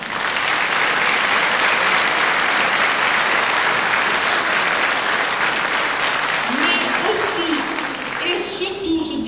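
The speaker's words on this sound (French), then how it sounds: "Je voudrais que vous les applaudissiez pour cela." An audience at a French public political meeting applauds loudly and steadily in a packed hall, and a voice speaks over the clapping as it begins to thin near the end.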